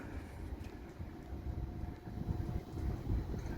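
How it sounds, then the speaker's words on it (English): Steady wind rumbles and buffets against the microphone, a low gusty roar that swells slightly toward the end, with no voices. "It's a little bit windy at times"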